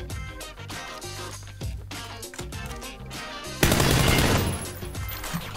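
Rapid automatic gunfire in the video game PUBG, bursts of shots in quick succession followed by a heavier sustained volley, loud and dense.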